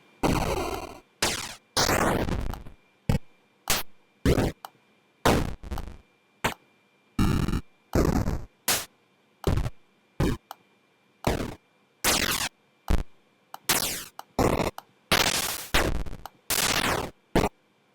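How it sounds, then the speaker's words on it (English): Synthesized explosion sound effects for a Unity mobile game, about twenty short, loud, noisy bursts fired one after another with brief silences between them. "Maybe we want an explosion."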